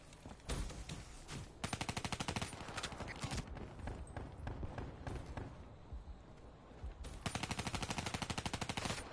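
Man-O-War assault rifle gunfire in the video game Black Ops 3 rings out in loud, rapid bursts, with pauses between volleys and a dense, harsh burst of shots near the end.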